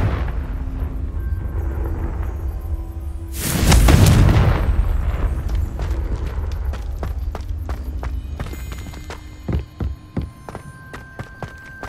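A Confringo explosive spell from Hogwarts Legacy goes off as one loud, roaring blast midway, then fades into quieter footsteps and light clattering.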